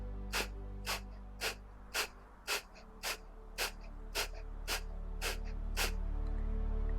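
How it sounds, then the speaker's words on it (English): Rapid, forceful exhalations through the nose during breath of fire in a yoga session, about eleven sharp, evenly spaced puffs roughly every half second, close and clear over a low steady background hum, with no talking. "Breath of fire is rapid exhalations out the nose"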